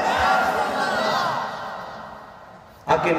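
Large crowd shouting a takbir response in unison at an Islamic religious gathering in Bangladesh, a sustained loud collective roar that fades, then a fresh burst of voices near the end.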